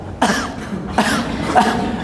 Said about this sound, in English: Place your hand just above your stomach and make a cough.